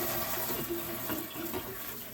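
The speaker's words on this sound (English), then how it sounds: "Let me rinse this jar just a second." Tap water runs steadily while a jar is rinsed under the faucet in a home kitchen, a continuous close splashing with small shifts in flow as the jar moves.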